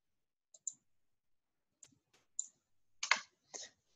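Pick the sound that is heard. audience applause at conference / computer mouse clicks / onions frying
computer mouse clicks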